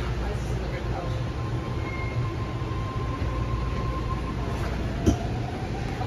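An old BART legacy-fleet train in San Francisco rumbles steadily with low rolling noise and a faint whine, and a brief clunk breaks in near the end.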